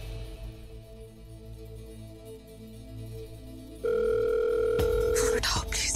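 A landline telephone gives a loud, steady dial tone that lasts about a second and a half. Before it comes a low tonal hum, and after it a burst of noise.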